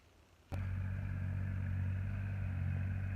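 A farm tractor engine, a Thai two-wheel walking tractor, kicks in abruptly after a quiet moment and settles into a steady, close, humming drone with a faint rattle.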